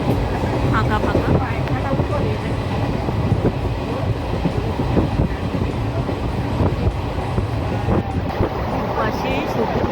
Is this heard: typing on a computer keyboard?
no